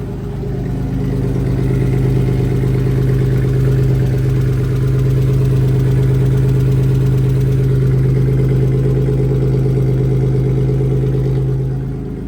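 BMW 318i engine fitted with a homemade exhaust idling steadily, a loud, even droning rumble with a strong low hum that holds for about twelve seconds before cutting off.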